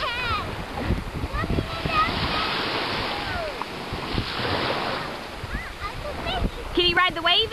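Ocean surf washes and breaks steadily on a beach, a continuous near rushing roar with wind buffeting the microphone, while people talk and call out over it.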